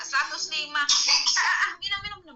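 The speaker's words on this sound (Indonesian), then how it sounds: "Batuk." A young child coughs and clears the throat in a few rough bursts mixed with voiced sounds, close to the microphone.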